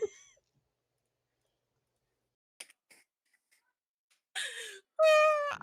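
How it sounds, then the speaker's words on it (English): A pet cat meows a few times in a quiet room: a short cry at the start, faint taps, then two clear, drawn-out meows near the end, the last one loud and close. "I don't know if you can hear my cat meowing"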